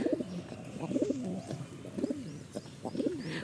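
Pigeons on a rooftop coo in repeated soft, throaty phrases, four distinct rolling calls spaced about a second apart, close and clear over a quiet background.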